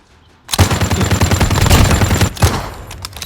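USS 9 submachine gun in the video game Call of Duty Mobile, firing one loud, close, continuous rapid burst that starts abruptly after a short quiet moment and rattles on for nearly three seconds.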